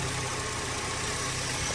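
A 2007 Acura TSX engine idles after a bank 1 knock sensor replacement, giving a steady, close, even rumble with a faint regular pulsing throughout.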